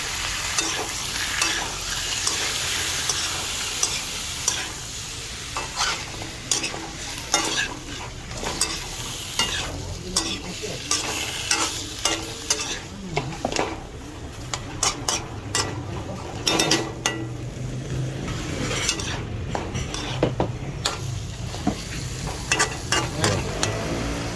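Pork sizzles and spits steadily in an almost oil-free pan while it is stirred for pork soup. Scraping and clattering from the stirring are close by and run throughout, with no talking.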